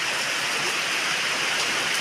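Steady heavy rain pours down, a dense, unbroken hiss with no pauses and no voices.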